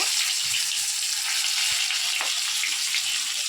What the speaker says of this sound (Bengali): মাছের তেলেতে এবার আলুগুলো দিয়ে দেবো। আলুগুলো ভেজে নেব।